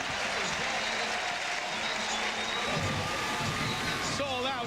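A sold-out crowd of over 50,000 at a college football stadium cheers and applauds steadily after a turnover and touchdown in a 2000 NC State vs Georgia Tech game, a broad distant roar with a commentator talking over it.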